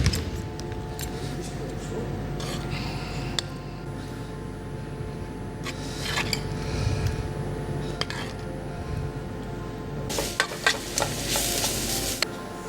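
Potatoes added to a chicken sauce in a pan, giving steady close sizzling and frying with repeated stirring scrapes and clatters of utensils against the pan throughout.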